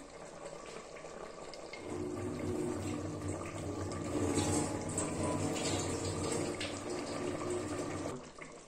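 Water from soaked rice pours out steadily for several seconds at close range, a continuous splashing flow that starts softly, swells, then cuts off near the end, with no voices.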